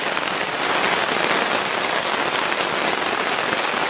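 Heavy rain pours onto a Naturehike Girder Hexagon tarp at a campsite, a loud, dense, unbroken hiss of drops drumming on the fabric with no pauses and no voices.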